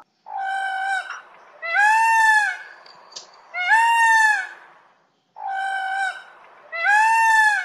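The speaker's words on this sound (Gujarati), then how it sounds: "આ છે મોર." A peacock gives five loud, drawn-out wailing calls in a clear, evenly spaced series, each separated by a short silence, with nothing else in the background.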